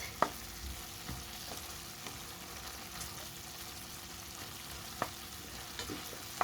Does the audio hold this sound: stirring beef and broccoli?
yes